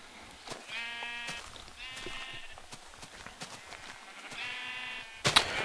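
A flock of Minecraft sheep bleats repeatedly with wavering baa calls, some near and some farther off, spaced a second or so apart over a faint background of the game world.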